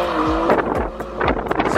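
A car drifts on a retired go-kart race track with its tires squealing and smoking, sending out repeated sharp squeals and engine surges, loud and close, with wind buffeting the microphone.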